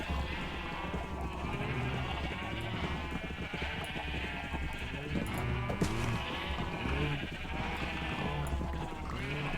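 Several sheep bleat repeatedly in the Minecraft video game as a flock is herded into a building, overlapping blocky bleats coming in a continuous, fairly quiet chorus without speech.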